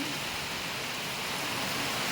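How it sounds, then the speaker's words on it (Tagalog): Heavy typhoon rain pours steadily onto a roof as a dense, hissing wash of sound with no breaks and no voices. "Lakas na ng ulan"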